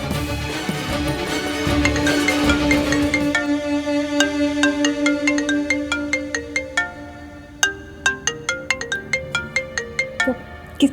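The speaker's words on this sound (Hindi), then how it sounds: "किसका फोन है?" A phone ringtone plays as a sustained electronic melody that shifts into a repeating pattern of bright, evenly spaced tones, loud and close with no talk over it.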